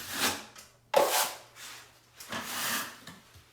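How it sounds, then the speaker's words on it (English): Joint compound being wiped into ceiling corners while skim coating, several short scraping and rubbing strokes close by with brief pauses between passes. "I'm just doing the corners, making sure not to go down on the walls, and then I just wipe it back down."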